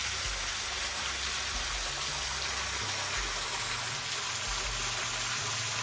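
Water cascades just below a waterfall near a wide, low rock arch in Big South Fork. The gushing is loud, continuous and close, with a low churning rumble and no voices.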